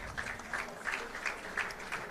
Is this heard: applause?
yes